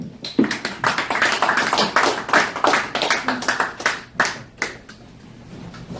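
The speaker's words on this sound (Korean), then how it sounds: "자, 박수 부탁드립니다." Lecture audience claps in a fairly sparse, distinct burst of individual hand claps that thins out toward the end, leaving quieter room tone with a few scattered claps.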